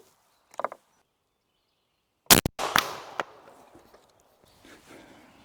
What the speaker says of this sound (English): Next up, Nielsen Specialty Ammo, hollow point